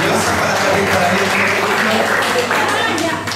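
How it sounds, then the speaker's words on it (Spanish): Applause from an audience at a healing and deliverance retreat, steady and dense crowd clapping throughout, with some voices mixed in underneath. "démosle un aplauso a la Yolita"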